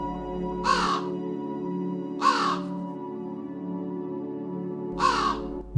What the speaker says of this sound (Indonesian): yaitu mendengar suara burung gagak antara jam 12 malam sampai jam 1